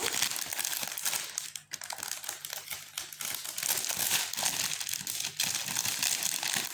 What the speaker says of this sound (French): Alors, on va déballer cette jolie toile.